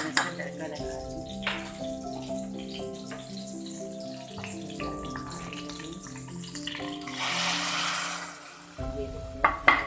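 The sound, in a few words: tempering dal with hot oil, sizzling tadka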